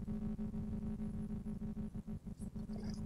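A car air conditioner running, a steady low throbbing hum with a pulsing rhythm that carries on without a break, fairly quiet and close.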